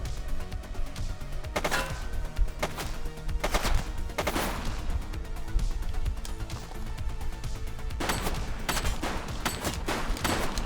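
Gunfire in the police game The Precinct, repeated loud shots and rapid bursts in clusters over a continuous busy background of music and street noise.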